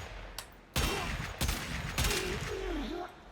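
Bursts of gunfire from the Lex Incarnon pistol in the game Warframe, a few loud separated shots with ringing tails, under a voice talking.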